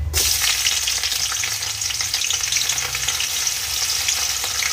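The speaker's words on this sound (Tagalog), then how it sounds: "may malamig din kami na kanin, kaya yun yung ipa-fried rice natin kasama nung ulam kagabi" Cold leftover rice fries in a generous amount of oil together with last night's leftover dish, giving a loud, steady, close sizzle that runs unbroken the whole time.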